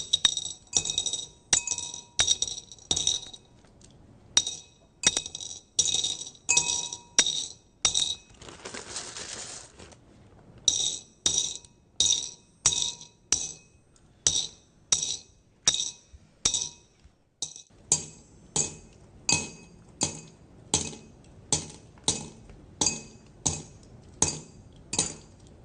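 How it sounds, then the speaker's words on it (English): Turquoise stones drop one by one into a glass jar during a courtroom sentencing, making a long steady series of bright clinks, each a sharp separate tap at an even pace, close and clear with no talk. "dropping 114 turquoise stones into a glass jar"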